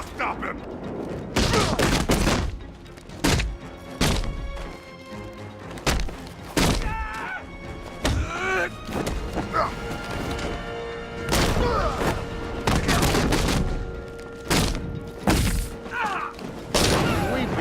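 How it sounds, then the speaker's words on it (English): Batman's bat tank firing in the Batman Arkham Knight video game: repeated heavy cannon blasts and thuds in irregular bursts, with explosions and debris clatter, while voices talk between and over the shots. "That freaking bat tank fires"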